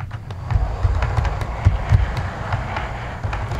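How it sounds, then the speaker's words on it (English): A Hornby Transport for Wales class 67 model locomotive with Mk4 coaches and DVT rumbles past on the track with a steady low whir and rapid rail clicks, close and fairly loud, its motor running slightly jumpy. "We just let the set come past the camera there, and we just slow it down as the DVT gets to there"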